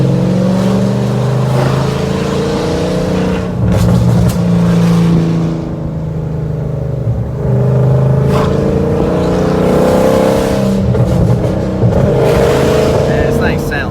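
Whipple-supercharged Dodge Scat Pack V8 revving hard, a loud droning engine note with surges and dips throughout, heard under people talking.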